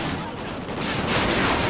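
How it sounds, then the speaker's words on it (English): Constant loud, dense gunfire from the video game Call of Duty Ghosts, a continuous wash of shots and explosion-like noise with no clear gaps. "I'm gonna shoot you from this close distance."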